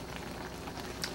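Creamy mushroom pork chops simmer in a pan over medium-low heat, giving a soft, steady bubbling and faint sizzle throughout, quiet and close, with one brief louder pop near the end.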